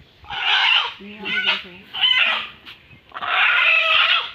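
Household chickens and a large rooster cluck and squawk in short bursts as they are let loose, loud and close, with a voice speaking between the calls.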